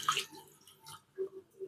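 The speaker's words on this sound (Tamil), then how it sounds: "இதில் தண்ணி விட்டு" Water poured into a pressure cooker holding mutton, a few soft splashing drips and gurgles, faint and close, in short bursts with quiet gaps.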